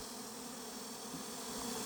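Honeybees buzz around their hives in a continuous, dense drone, steady and moderately close with no voices.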